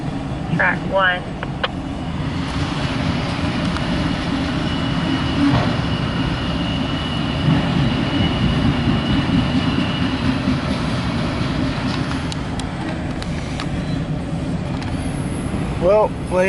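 A loaded CSX autorack freight train rolls past as a loud, steady rumble with wheel clatter and squeal. Faint radio-like chatter and scanner tones come and go over it.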